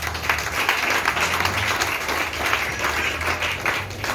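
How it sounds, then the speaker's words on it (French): A church congregation applauds in a steady, dense burst of clapping that holds at an even level throughout, with no clear speech over it. "Acclamons Jésus pour elle."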